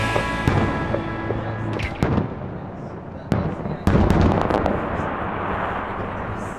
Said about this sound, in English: we caught the fireworks show from the Crow's Nest at the top of the Captain Cook Hotel